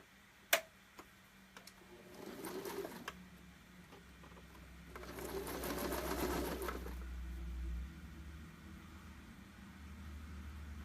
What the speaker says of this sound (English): I'm going to just do another top stitch real quick to get this side pressed down